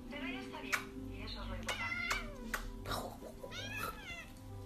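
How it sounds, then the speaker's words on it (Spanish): A fat, fierce house cat meows several times in drawn-out, rising and falling cries, close and fairly loud, with a person's voice talking alongside. "Tengo un gato gordo y rabioso."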